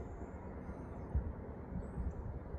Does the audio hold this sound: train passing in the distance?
yes